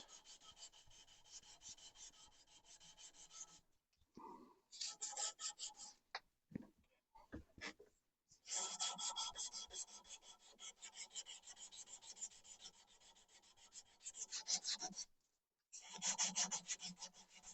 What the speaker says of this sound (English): So we'll give this a wee sand around here.